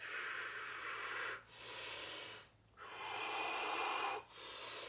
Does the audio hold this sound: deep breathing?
yes